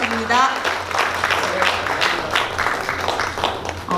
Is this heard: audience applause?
yes